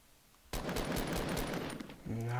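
A sudden burst of rapid automatic submachine gun fire in Fortnite, fast repeated shots for about a second and a half, then a voice speaks.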